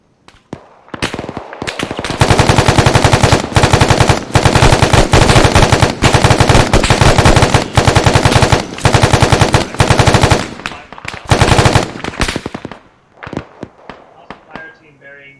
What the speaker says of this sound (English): they opened fire on us